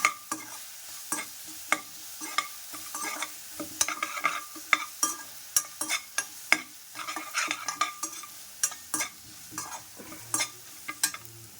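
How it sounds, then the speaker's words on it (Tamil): Ingredients for raw tamarind pachadi are sautéed in a pan, with a frequent, irregular clatter of a spoon scraping and stirring over a quiet, steady frying sizzle, heard up close with no talking. "நான் கொஞ்சம் சிம் பண்ணிவிட்டு நல்லா வதக்கலாம்"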